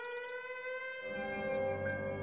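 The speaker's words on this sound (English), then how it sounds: "Oh, dear. That's the siren for the mine." A mine siren in an animated series wails as a sustained rising tone, loud and continuous, with a deeper rumbling layer joining halfway through; no one speaks.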